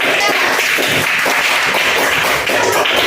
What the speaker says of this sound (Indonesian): Berikan tepuk tangan untuk teman-teman.